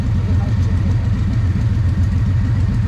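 A small Komar moped engine idles close by with a steady, rapid low putter that stays even and unbroken throughout.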